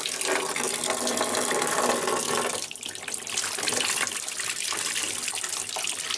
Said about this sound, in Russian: Включаем воду горячую.